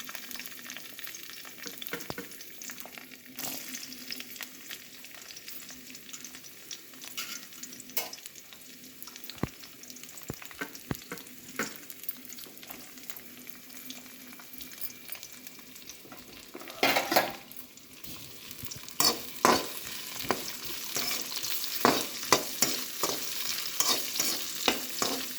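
Vegetable pieces frying in a pan, a steady crackling sizzle close by, with intermittent scraping stirs that grow busier and louder toward the end.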